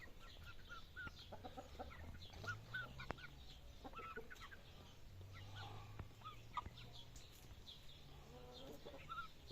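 Roosters and hens cluck and murmur in a farmyard, with overlapping low clucks and occasional sharper calls that run continuously at a moderate, fairly close level.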